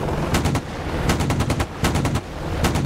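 Apache attack helicopter cannon fire in the DCS flight combat game, several rapid bursts of repeated shots in quick succession, loud and close over a continuous engine drone.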